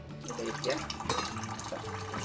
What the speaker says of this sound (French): Je vide l'eau qui s'est accumulée dans le petit plat.